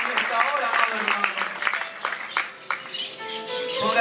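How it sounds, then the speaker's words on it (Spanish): A congregation at a Pentecostal church service claps for Jesus Christ: a dense, steady wash of hand claps runs through the whole stretch, with voices mixed in. "Dale una ofrenda de palmas a Jesucristo"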